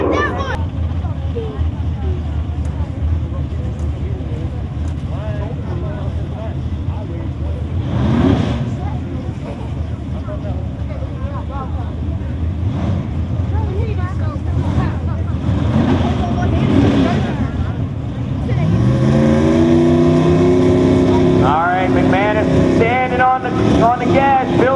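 An X275 drag racing car with a turbo builds boost at the track, a loud droning engine under continuous announcer commentary, rising into a climbing high-revving tone near the end.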